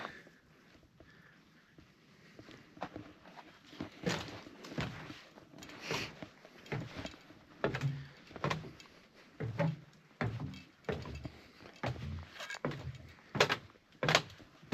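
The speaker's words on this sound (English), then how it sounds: "You hear that creaking and cracking?" Repeated irregular creaks and sharp woody cracks from a wooden bridge, fairly close and quiet, come in uneven bursts like boards flexing underfoot.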